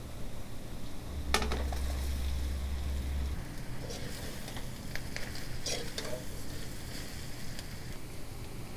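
Dhokla fries in oil with a steady, close sizzle, broken by sharp clinks and scraping of a utensil against the pan, and no voices.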